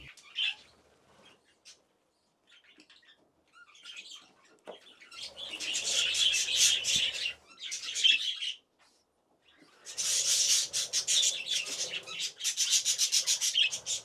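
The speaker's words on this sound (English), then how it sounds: "a soft little peep peep, the sound of a baby chick calling out to its mother" Soft, high-pitched peeping from a small budgie chick, coming in short bursts with brief pauses, close and fairly quiet, with faint rustling between calls.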